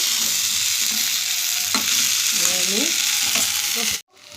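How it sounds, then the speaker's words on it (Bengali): Spices and fish curry masala with tomato sizzle and fry in a pan while being stirred, a steady close hiss with scraping strokes of a utensil, ending abruptly. "মশলাটাও দিয়ে দিলাম ভালো করে এবার কষিয়ে নিই"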